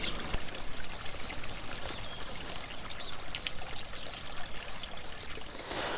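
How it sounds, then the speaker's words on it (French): Water flows steadily in a garden stream running through an intermediate pond with stepping slabs, a continuous close splashing trickle with faint birdsong in the background. "le ruisseau passe par un bassin intermédiaire dont les dalles semblent flotter sur l'eau"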